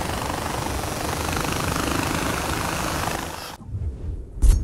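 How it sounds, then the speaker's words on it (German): A helicopter in Far Cry 4 flies with a loud, dense rotor and engine roar that holds steady, then cuts out abruptly near the end, followed by quieter rumbling and a sudden thump. "Stoßen wir an den Grenzen von dem Helikopter"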